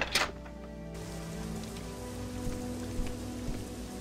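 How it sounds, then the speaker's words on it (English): Rain falls steadily in the video game Legacy of Laevus 2, a soft continuous patter on surfaces under quiet background music. "Well, the rain hasn't stopped."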